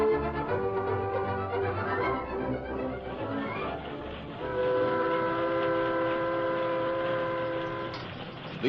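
A steam train, created as a radio drama sound effect, chugs along steadily with a continuous rumble, while a sustained whistle-like tone rises over it in the second half.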